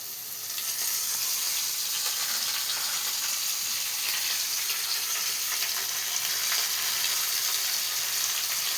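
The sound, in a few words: leafy greens frying in a pan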